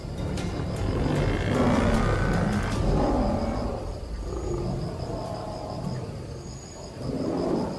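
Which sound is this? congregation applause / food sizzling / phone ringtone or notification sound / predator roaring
predator roaring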